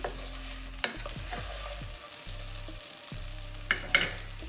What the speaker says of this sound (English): Sabudana has been cooking on low flame for about 3 minutes, and let's just check.